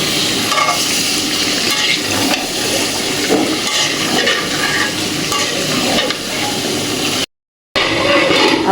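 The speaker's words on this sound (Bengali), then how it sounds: "আমি চিকেনটা ভালো করে কষাই নিব।" Chicken is sautéed kosha-style in a pan, producing a loud, close, continuous sizzle with frequent scraping spatula strokes, briefly cutting out near the end before resuming, with no talking.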